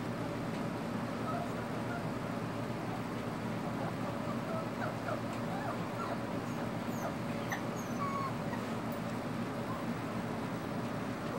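A female dog whimpers and yips in faint, scattered high cries while searching for her puppies indoors, set against a steady background hum with no speech.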